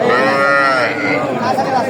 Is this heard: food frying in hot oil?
no